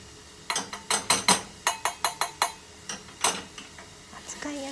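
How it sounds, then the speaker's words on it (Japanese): Onion and minced garlic are stir-fried in a pan, heard mostly as a quick run of sharp spatula taps and scrapes against the metal, close and rhythmic, with little sizzle beneath. "あとニンニクのみじん切り、小さめのニンニクのみじん切り1個で、しんなりするまで炒めていきます"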